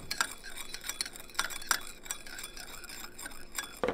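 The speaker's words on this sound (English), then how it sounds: "And then you're going to give it a mix until it dissolves." A utensil stirs sugar and salt into a poke seasoning mixture in a bowl, giving quick, repeated light clinks and scrapes close by, with no speech.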